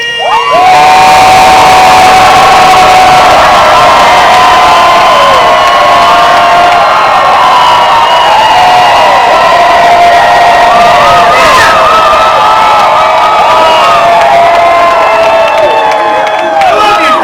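A large crowd at an animation workers' union rally cheers, whoops and screams loudly and continuously, with high shouting voices layered throughout.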